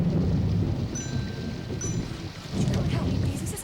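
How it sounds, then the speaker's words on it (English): Rolling thunder rumbles loudly through a steady downpour of rain, the low roar swelling and easing over a few seconds with no talking. "I think it's the thunder."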